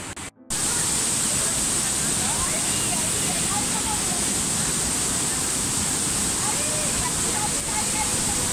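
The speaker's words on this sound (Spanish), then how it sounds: "Hemos llegado a la cascada de 5 cerros, otra vez después de un tiempo por acá." Waterfall at Cinco Cerros near San Mateo de Otao, Peru, roaring as a steady, loud broadband rush of falling water that fills the whole clip after a brief dip at the start.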